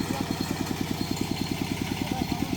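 A tractor engine idles steadily at close range, its low, even chugging pulsing at a quick regular rhythm throughout, with no talk over it.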